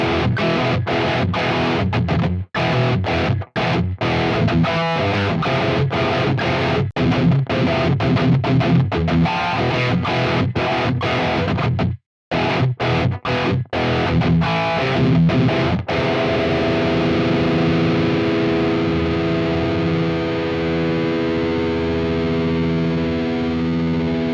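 Loud distorted electric guitar through a Marshall amp model on a Quad Cortex strums chords in a choppy rhythm with a few brief stops, then lets the final chord ring out. No one speaks.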